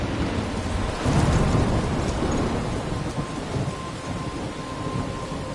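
A video-game thunderstorm rumbles with heavy thunder over a steady hiss of rain, loud and continuous, swelling briefly before settling into a dense downpour.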